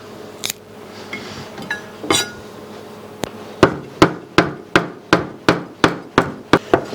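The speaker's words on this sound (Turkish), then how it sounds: "Bir tutam dereotunu doğradık" Knife chopping a pinch of dill on a cutting board: a few scattered taps and scraping first, then a regular run of sharp, close strikes about two per second, with no talk.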